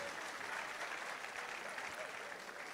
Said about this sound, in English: let's give the minister one more time a round of applause